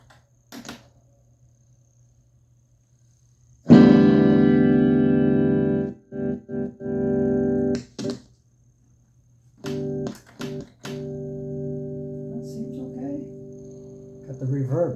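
An electric guitar plays sustained, reverb-drenched chords through a Fender Frontman reverb amplifier, with pauses and short plucked notes between ringing strums.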